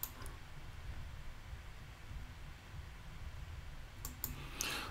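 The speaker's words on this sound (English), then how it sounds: "You click on that file and then you click on import." Faint, sparse computer mouse clicks during PDF-to-Excel data import, a couple of sharp clicks near the end over a steady low hum with no talking.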